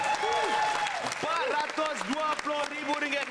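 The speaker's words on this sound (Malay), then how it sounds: "Tepukan untuk Faizal dan Sean." On the Malaysian game show Money Drop, the studio audience applauds contestants with steady crowd clapping, under a host's voice and tonal show music.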